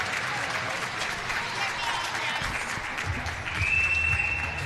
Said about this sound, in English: you can hear the fans cheering on Montreal